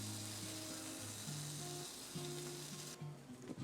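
A tortilla with cheese sizzles in an oiled pan, a steady soft frying hiss that runs throughout at low volume, with faint tonal hum beneath and no talk.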